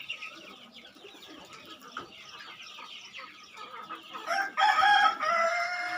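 Chickens cluck and a rooster crows on a rooftop poultry farm where pigeons are also kept, several birds calling close by with a louder burst of crowing toward the end.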